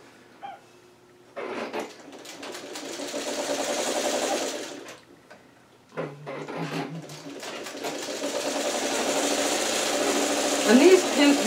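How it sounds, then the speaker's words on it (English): Sewing machine stitching scrap quilt patches, running in two longer bursts with a brief pause between, close and steady with some handling noise. "I'm just going to sew it through"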